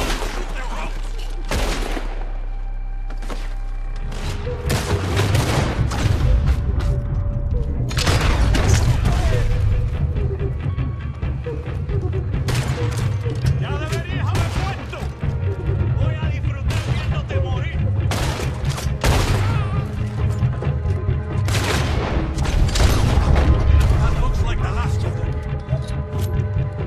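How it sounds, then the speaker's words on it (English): Dense, continuous gunfire with repeated booming shots over a deep rumble fills a Red Dead Redemption 2 cutscene where men shoot at ropes, the volleys loud and overlapping throughout. "Shoot the ropes. Come on, shoot the ropes."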